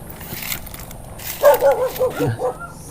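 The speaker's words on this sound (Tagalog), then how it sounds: "May aso po." A dog barks several times in quick succession at moderate distance, with faint background chatter and outdoor noise.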